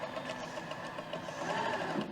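Sewing machine running in a classroom scene, a steady, even mechanical hum with a faint rapid chatter throughout the short stretch, moderately loud and with no speech.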